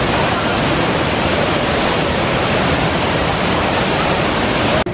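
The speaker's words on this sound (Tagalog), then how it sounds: "Nandito kami sa bridge ng Shifen Waterfall." Shifen Waterfall in Taiwan, heard from the bridge in front of it: a steady, loud, broadband roar of falling water that fills the whole clip without a break, ending in a brief cut at the close.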